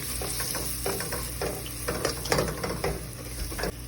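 Parsley and paprika sautéing in a pan for a curry, giving a steady soft sizzle with light scraping and stirring taps throughout.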